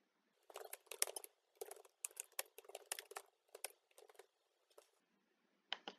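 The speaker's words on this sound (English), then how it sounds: "So you type in your question." Someone types a multiple-choice quiz question on a computer keyboard in quick bursts of crisp, close key clicks separated by short pauses, with a final cluster after a longer gap and no voices.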